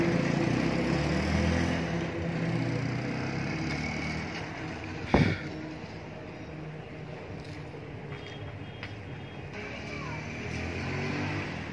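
A bike trailer trolley being test-driven, its engine giving a steady, rumbling drone throughout, with one sharp knock or clunk near the middle.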